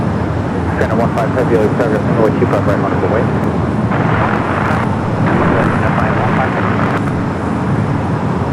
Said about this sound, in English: 777 up next for takeoff there on the north.